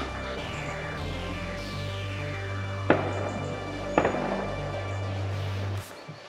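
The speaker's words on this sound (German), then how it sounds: "ihr hört die Schüsse im Hintergrund" Two sharp distant gunshots ring out about a second apart near an abandoned lot of old buses, each a brief crack with a short echoing tail, heard over a constant low engine-like hum.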